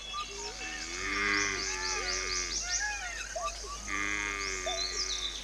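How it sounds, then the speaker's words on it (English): Stray cattle moo in long, drawn-out calls inside a national park in Nepal, several overlapping at moderate distance, with higher animal cries mixed in over a faint outdoor background. "However, sometimes stray cattle get into the park."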